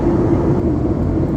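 A passenger airplane's engines roar steadily as the flight departs for Amsterdam, a loud, even, broadband rumble filling the short stretch without speech.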